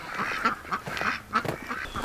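Ducks quack in a steady series of short nasal calls near chicken tractors on a small farm, several birds overlapping at close range with no talking.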